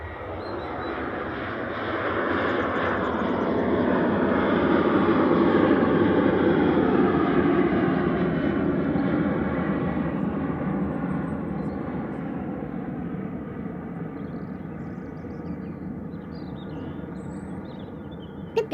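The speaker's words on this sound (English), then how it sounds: "Ryanair 3222 Brussels Charleroi, EIGXJ 737-800." A Ryanair Boeing 737-800 jet airliner at Manchester Airport, a broad steady engine roar that swells over the first several seconds, peaks, then slowly fades as it passes at a moderate distance, with no talking.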